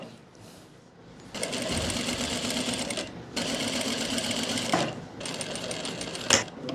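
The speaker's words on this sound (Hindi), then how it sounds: "तो मैं आधा इंच फोल्ड करके सिलाई लगा रहा हूँ" An electric sewing machine stitches a folded half-inch hem on palazzo pants, running in two long steady whirring bursts and then a few short ones, loud and close.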